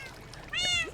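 A cat meows once in Minecraft, a short, rising, tonal cry that comes late and is fairly faint, over quiet background noise.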